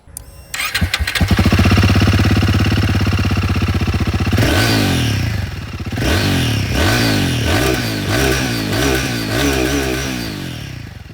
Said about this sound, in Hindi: अब मैं आप लोगों को यहाँ पर जो गुरिल्ला 450 है इसकी भी आवाज़ सुना देता हूँ।